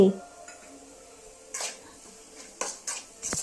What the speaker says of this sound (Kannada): ಮಸಾಲೆ ಎಲ್ಲ ಎಣ್ಣೆಯಲ್ಲಿ ಹಸಿ ವಾಸನೆ ಹೋಗೋವರೆಗೂ ಬಾಡಿಸಿ